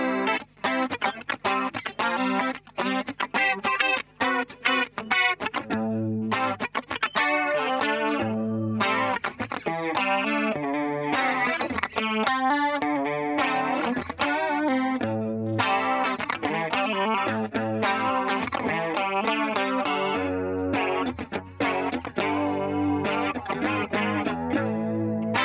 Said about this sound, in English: I'm just going to use compressor and chorus to give it a bit of a funky sound.